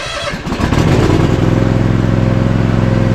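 Ariens zero-turn mower engine, choked at half throttle, starting up: a brief cranking clatter, then the small engine catches and settles into a loud, steady, rough idle close by.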